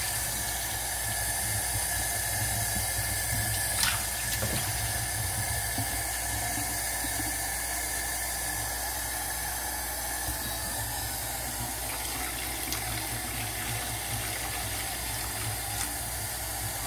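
Tap water runs steadily into a cooking pot at a kitchen sink, making a constant hissing splash that lasts the whole stretch with no talking over it.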